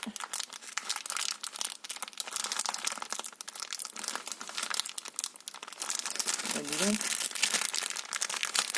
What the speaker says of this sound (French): Donc là, je vais l'ouvrir maintenant.